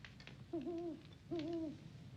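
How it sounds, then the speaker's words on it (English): Owl hooting at night in desert country, two distinct quavering hoots a short pause apart, fairly faint and alone against quiet background hiss. "It's a night owl."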